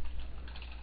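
Keys on a computer keyboard are tapped quickly and softly while PL/SQL code for an Oracle IF THEN statement is typed, giving a short run of faint clicks.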